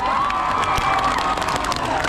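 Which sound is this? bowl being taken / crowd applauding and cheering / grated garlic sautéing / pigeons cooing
crowd applauding and cheering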